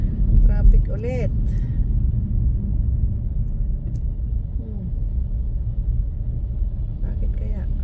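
Low, steady road rumble of cars crawling in slow traffic heading downtown after the Southshore exit, heard from inside a vehicle, with a person talking over it.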